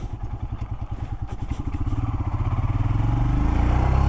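Royal Enfield Himalayan 411cc single-cylinder motorcycle with an unbroken-in engine riding along, its steady thumping exhaust pulses close and rising in loudness and pace as it accelerates, with no talk.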